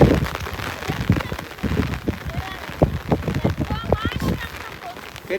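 Heavy rain falls over a flooded paddy field during rice transplanting, a steady hiss with splashy close drops, while a person talks over it.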